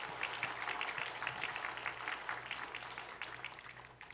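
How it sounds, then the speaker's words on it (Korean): A church congregation applauds in a steady, faint wash of many hands clapping at a distance, continuing for several seconds and fading slightly toward the end. "우리에게 사랑에 수고하는 분들 위해서 박수 한번 이렇게 한번."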